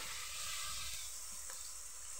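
Meat and spices sizzle steadily as they are braised in a pan in a village kitchen, a continuous close frying hiss with occasional stirring scrapes.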